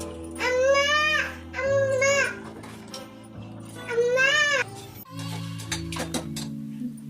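A young girl babbles and cries in three drawn-out, wavering wails at close range in a home kitchen, separated by short pauses, with clattering household noises afterward.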